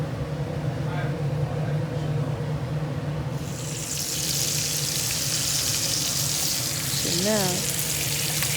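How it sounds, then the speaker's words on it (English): Flat iron steaks searing in a pan with butter, thyme, garlic and olive oil give a steady sizzle that grows louder and hissier partway through, under someone speaking briefly. "I'm going to try just baste these steaks in the butter and thyme and olive oil and everything"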